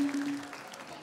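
Villagers at a Balinese village quiz show in Desa Kukuh, Marga, Tabanan break into brief, dense applause for the contestants, a short burst of clapping from a nearby crowd.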